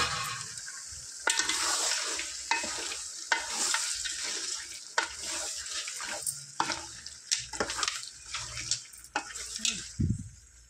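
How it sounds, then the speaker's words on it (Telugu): Spiced masala with fresh coriander leaves fries in a pan for country chicken fry, giving a bright continuous sizzle broken by regular scraping stir strokes and a low thump near the end. "ఇందులో కొద్దిగంత కొత్తిమీర వేసుకొని చక్కగా ఫ్రై చేసుకుందాం"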